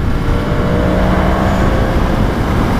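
Yamaha MT-10 motorcycle, a 210 kg bike with 170 horsepower, its engine droning and revving steadily up close with no pause.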